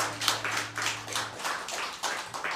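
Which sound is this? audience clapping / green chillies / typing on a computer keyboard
audience clapping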